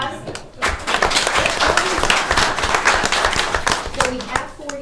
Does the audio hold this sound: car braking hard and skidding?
no